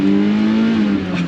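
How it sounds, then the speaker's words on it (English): A 1988 BMW E30 M3 engine screams at high revs toward the red line, a loud, close, sustained wail that holds briefly and starts to ease off at the very end. "So we'll do a couple red line pulls here."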